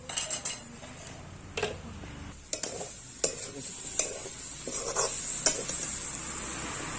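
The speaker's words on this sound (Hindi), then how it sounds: "इसे 5 से 7 मिनट तक भूनेंगे हम" Banana vegetables fry steadily with garlic and ginger in a hot pan while a utensil scrapes and clinks against the metal now and then, with no one speaking.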